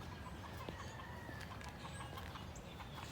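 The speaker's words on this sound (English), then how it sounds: "Almost sounds like someone's chicken got up." A rooster clucks and crows in a backyard, standing out as steady, fairly close calls over a continuous outdoor hiss with no voices.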